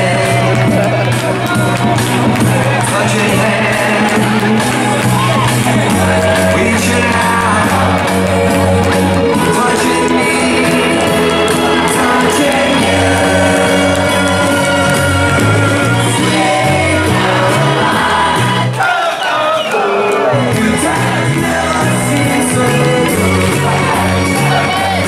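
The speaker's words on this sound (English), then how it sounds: "Well, that's got the crowd going" Crowd at a live wrestling show in a Northampton hotel venue cheers, whoops and shouts loudly and continuously, a dense roar of many voices with music blaring underneath.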